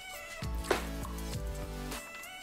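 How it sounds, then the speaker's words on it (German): A cat meows loudly and insistently in the background, several drawn-out yowls in a row, clear and fairly close. "das Katzengedöns von meiner Ex-Partnerin macht gerade Randale im Hintergrund"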